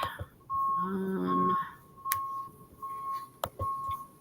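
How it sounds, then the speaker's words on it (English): Repeated electronic beeps from a garbage truck sound from outside at a steady interval, mixed with a low engine rumble and a few sharp knocks. "What is that beeping noise? It's the garbage man."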